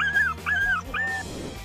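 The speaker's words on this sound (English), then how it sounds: "This dog decided that it was immortal and bit a bull right where you should never bite a bull." A dog whimpers in three high, thin, drawn-out whines in quick succession, close and fairly loud, followed by a brief rustle.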